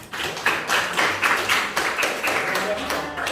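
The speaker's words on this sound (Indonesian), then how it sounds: "Beri tepuk tangan untuk Andika." A short round of group clapping in a junior high school classroom, a quick rhythmic patter of hands lasting a few seconds.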